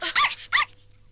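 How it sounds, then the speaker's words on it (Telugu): A puppy unpacked from a parcel gives two short, bright yips in quick succession, close and fairly loud, followed by faint fading whimpers. "కుక్క పిల్ల."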